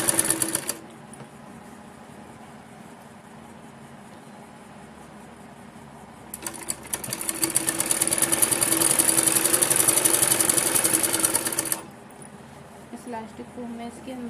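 A sewing machine stitches elastic into the waistband of palazzo trousers, running in a short burst at the start and then a longer steady run that builds up, close by, with someone talking.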